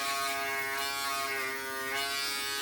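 A Wahl compact electric shaver running steadily, a close, continuous high-pitched motor buzz with a dense harmonic whine, no talk over it.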